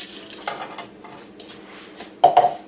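Plain white rice poured into a cooking pot for homemade jambalaya, with soft scattered rustling bursts and then a sharper pair of close metallic clinks against the pot near the end.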